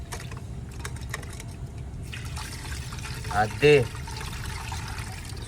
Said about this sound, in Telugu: నీళ్ళు పోయి తాత